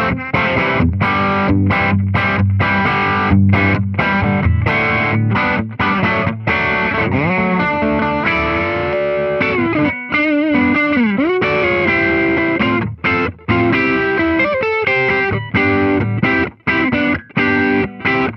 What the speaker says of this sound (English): Overdrive with this guitar, I like to use a Wampler Euphoria, which is a Dumble style overdrive